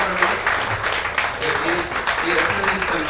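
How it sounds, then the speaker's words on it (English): An audience at a press conference claps in a steady, dense burst of applause, filling the room continuously for a few seconds. "Give him a big round of applause"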